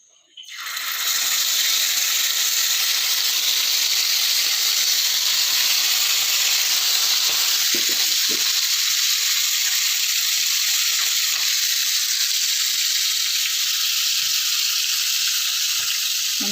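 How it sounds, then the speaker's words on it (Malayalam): Marinated chicken pieces go into a pan over low flame, setting off a loud, continuous hissing sizzle that swells within the first second and holds steady, with a few faint knocks partway through. "അപ്പോൾ നമ്മുടെ ചിക്കൻ പുരട്ടി വെച്ചത് നമ്മൾ ഫ്രൈ ചെയ്തെടുക്കാൻ പോവാണ്"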